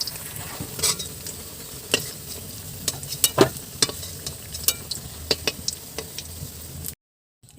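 Taro pieces frying lightly in oil while being stirred, with a continuous sizzle broken by repeated sharp spatula scrapes and knocks against the pan, close and alone, stopping abruptly before the end.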